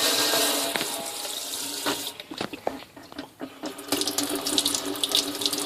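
Water gushes steadily from a faucet, a loud continuous splashing stream that shifts slightly in force partway through, with no voices.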